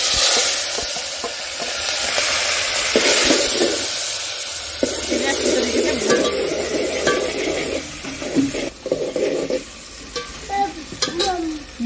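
Ginger, green chili and tomato hit hot oil with roasted cumin, sizzling and frying steadily while being stirred, with scraping and clatter of a spoon in the pan throughout; the sizzle grows busier partway through.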